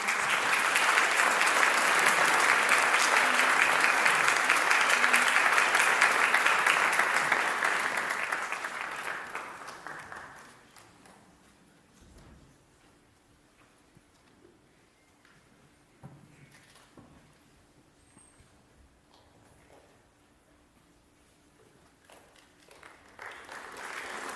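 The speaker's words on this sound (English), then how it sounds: "Please join us in a warm round of applause" Loud applause fills a hall as an audience welcomes a performer onto the stage at a violin arangetram, a dense wash of clapping that swells and then fades away after about ten seconds, leaving a quiet room with faint rustling.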